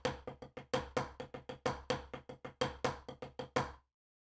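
Crisp snare drum strokes played solo in a steady pattern, shifting between even pairs and quicker groups of three, each hit sharp and ringing briefly.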